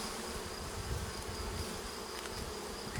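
Honey bees hum steadily inside a crowded hive, a dense continuous buzz close by with no voices over it.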